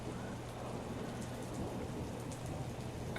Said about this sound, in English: What's that noise? Is that rain?